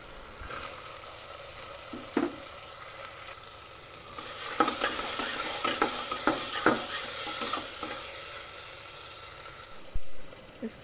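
Sprouts are stirred and fried in a pan with tomato for sprouts khichdi, giving a continuous sizzle with repeated scraping and clinking of a spoon against the pan, plus a louder knock near the end.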